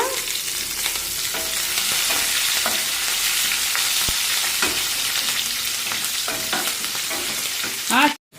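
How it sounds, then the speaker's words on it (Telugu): Green chillies frying in hot oil for a tempering, a steady crackling sizzle with scattered pops and stirring clinks that ends in a sudden stop. "పచ్చిమిరపకాయలు వేసేద్దాం ఎందుకంటే పచ్చిమిరకాయలు కూడా వేగాలి కదండి"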